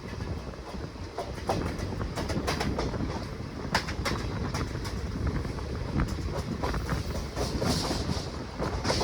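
The Pinakini Superfast Express rumbles out of a junction, a dense continuous roar of wheels and carriages with rhythmic clickety-clack heard from inside the train, close and loud throughout.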